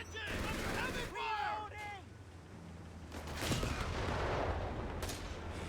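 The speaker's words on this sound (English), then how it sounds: "Heavy machine guns duking it out here in the middle." Heavy machine guns firing in the strategy game Company of Heroes 3, rapid bursts and crackling shots mixed with battle noise, at moderate level under a commentator's talk.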